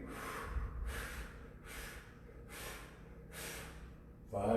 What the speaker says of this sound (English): 5 quick breaths, exhales